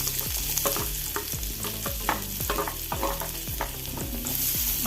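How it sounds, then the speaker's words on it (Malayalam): Two thinly sliced onions sizzle loudly in hot oil in a pan, with rhythmic scraping and tapping of a spoon as they are stirred, continuous and close. "2 സവോള കനം കുറഞ്ഞ് അരിഞ്ഞതാണ് ഇത് ഇട്ട് കൊടുക്കാം."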